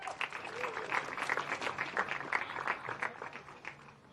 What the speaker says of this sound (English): one big final round of applause for OKN Junior